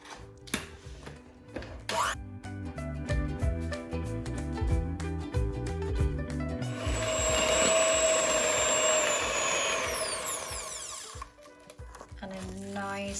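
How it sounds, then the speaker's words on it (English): An electric whisk beats an egg into chocolate chip cookie dough, a loud steady motorized whir building and holding for several seconds, preceded by background music and kitchen clatter. "Then whisk it."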